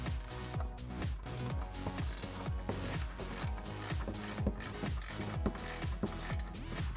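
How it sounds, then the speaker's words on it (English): An 18 mm ratcheting wrench unthreads a shock bolt on a Jeep Wrangler JL during a suspension lift install, giving rapid repeated ratcheting clicks at a steady rhythm, close and clear. "you can use an 18 millimeter ratcheting wrench like I am."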